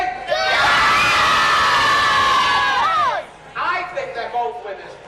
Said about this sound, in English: If you can shout the loudest for Louise, Louise is the winner.